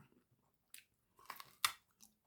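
Someone bites into and chews raw guava, giving a few crisp, crunchy bites spaced out over a couple of seconds, close up and quiet, with no talking.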